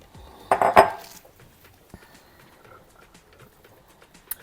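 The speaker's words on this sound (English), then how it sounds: "we're going to go ahead and put in our sweet potatoes" Sweet potato pieces dropped into a warming slow cooker, a quick cluster of two or three loud clattering knocks early on, then faint scattered taps and a final small click in a quiet kitchen.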